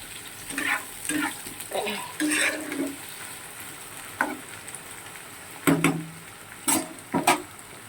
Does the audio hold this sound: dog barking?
no